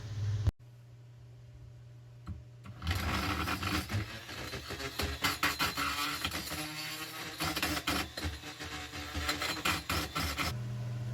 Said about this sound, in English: take the oscillating multi-tool and use the metal blade to cut the nails here that are holding this stud in place